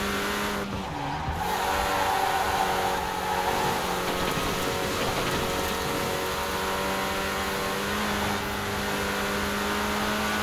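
Mini Countryman rally car in Forza Horizon 4 accelerating downhill in fifth gear, its engine holding a steady strained whine with faint tire scrubbing and a brief dip near the start, loud and continuous without talk.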